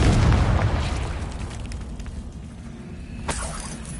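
A Confringo spell explosion in the Hogwarts Legacy video game, a loud deep blast at the start that rumbles and fades over several seconds, with a faint crackle and a smaller pop near the end.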